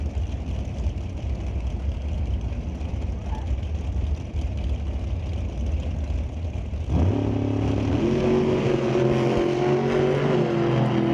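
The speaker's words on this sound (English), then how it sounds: "We got us a drag race right here." Drag cars at an NHRA Canadian national event roar through a loud, steady engine wash, then a sharper, higher revving blast cuts in partway through and holds to the end, with no voices.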